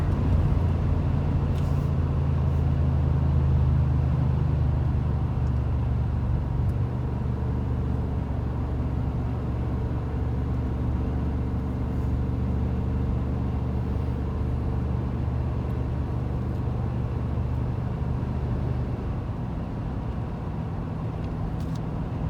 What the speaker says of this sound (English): So right now I'm also running the truck in tow haul mode